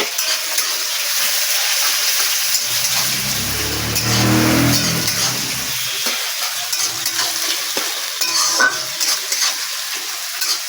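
Chopped onion and slit green chilli frying in a pan with whole cumin, giving a steady close sizzle with a louder burst midway as things are stirred, no voices.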